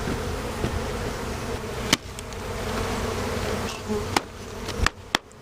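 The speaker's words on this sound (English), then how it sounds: "That's a lot of bees." A dense crowd of bees drones steadily around an open hive during hive combining for winter setup, close and continuous, with a few sharp knocks and clicks of equipment breaking through.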